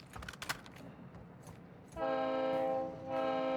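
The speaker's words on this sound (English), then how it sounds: "That is most likely the train." A train in the video game Call of Duty DMZ sounds a sustained, tonal horn blast that begins partway through, dips briefly and swells again, following a stretch of scattered, muffled in-game noise.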